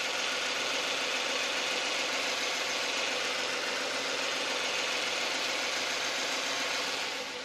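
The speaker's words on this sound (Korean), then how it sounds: "바로 엔진 소리 한번 들려드릴게요." A Genesis six-cylinder car engine idles with a steady, smooth hum and even mechanical texture, close by and continuous, with no voices.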